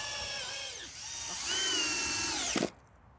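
A power drill drives a screw into the leg of a wooden bean and pea support archway on an allotment raised bed, its whine rising and holding steady for about two and a half seconds before cutting off abruptly, close and loud.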